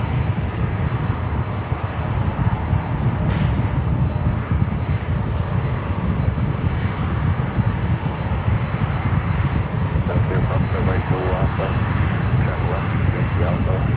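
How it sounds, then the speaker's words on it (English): A Yun Express Boeing 777 freighter jet roars past at JFK, a broad, sustained rumble that holds steady throughout, with people talking over it. "That was a Yun Express heading to Anchorage, a 777 freighter"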